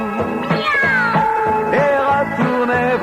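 Dancers at a French party dance cry out a series of cat-like 'miaou' calls, human voices imitating a cat, with several drawn-out, wavering meows in quick succession, fairly close and loud.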